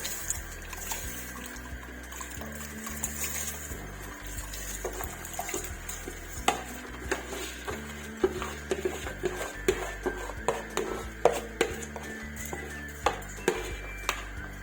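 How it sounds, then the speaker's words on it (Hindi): Soaked rice tipped into a pot of boiling water while making Bombay chicken biryani: bubbling water with scattered clinks and light knocks of a utensil against the pot, close up and steady, no talking. "पानी में बॉईल आ चुका है। अब इसमें मैं डाल दूंगी चावल।"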